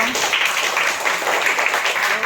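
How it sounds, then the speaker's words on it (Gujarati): A group of schoolchildren at a primary school clapping their hands together, a dense, lively burst of claps lasting a couple of seconds. "રમત રમવા રેડી ચલો તો તાળી પાડો એકવાર એકદમ સરસ ક્લેપ કરો"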